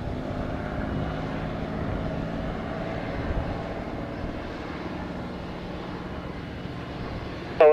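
A propeller airliner or light plane takes off from runway 07 at Sangster airport, Montego Bay, Jamaica, a steady, loud engine roar holding level throughout without fading, ending in a brief sharp burst.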